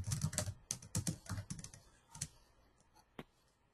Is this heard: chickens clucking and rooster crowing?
no